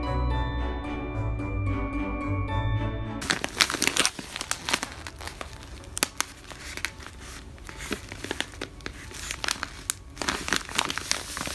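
Gift wrapping paper being folded in at the sides and tucked under, giving close, continuous crinkling and crackling rustles with sharp bursts, after a few seconds of tonal music at the start.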